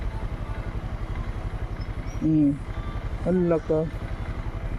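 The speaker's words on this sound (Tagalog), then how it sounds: "Yung ngang motor hindi makaahon" A motorcycle engine labours on a rough, steep road it cannot climb, a low pulsing chug running throughout while people speak briefly over it.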